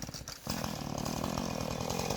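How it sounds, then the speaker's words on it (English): A chainsaw cuts firewood up close, a brief pause or stall giving way to a loud, steady buzzing drone that carries on without letup. "Max's first time with a chainsaw"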